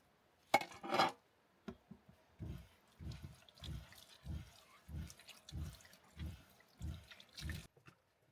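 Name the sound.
water running from van tank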